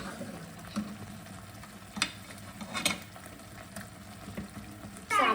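Mutton frying in oil in a pan for a North Karnataka style mutton sukka: a steady, soft sizzle with a few brief stirring clicks and scrapes, fairly quiet and close, with no talk.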